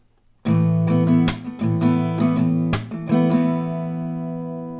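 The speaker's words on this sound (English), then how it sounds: "we're gonna learn the strumming pattern first before we go into the chord progressions here" Acoustic guitar strums in a steady pattern, broken by a couple of sharp percussive claps, then a final chord rings out and slowly fades.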